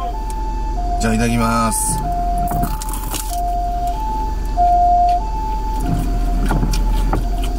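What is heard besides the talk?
ambulance siren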